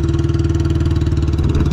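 A Royal Enfield Bullet motorcycle with a modified silencer thumps out a loud, close, steady rhythmic exhaust beat for a couple of seconds, with no talking.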